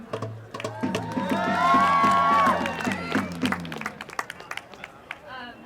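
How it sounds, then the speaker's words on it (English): Audience at a live event breaks into a round of applause with cheering and whoops, building to a loud peak then thinning out into scattered claps. "give a round of applause for AS."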